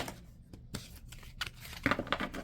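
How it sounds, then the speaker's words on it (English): A large, stiff deck of cards is shuffled by hand, producing brisk papery riffles and flutters in short uneven bursts, close and fairly clear. "this is a hard deck to shuffle"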